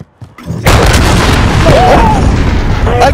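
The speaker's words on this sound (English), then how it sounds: "Enemy cruise missile incoming!" A cruise missile strike lands in a Call of Duty-style Search and Destroy match, a sharp close blast after a brief lead-in, then a loud rolling roar that fades slowly over a few seconds.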